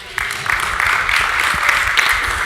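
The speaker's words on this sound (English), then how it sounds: "Let's give them a round of applause." Brief applause from a small group, starting abruptly and holding steady at moderate loudness for a couple of seconds.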